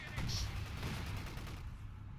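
A WWII game artillery barrage in which British guns shell a German position, heard as a short burst of faint, distant booms and crackling impacts.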